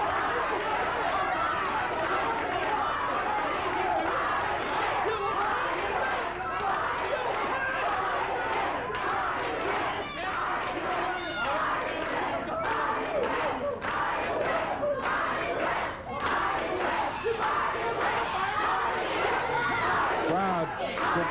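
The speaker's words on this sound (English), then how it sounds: "Crowd continuing the chant" Memphis wrestling crowd chanting steadily and loudly throughout, a dense roar of massed voices with rhythmic surges and occasional shouts, close and continuous.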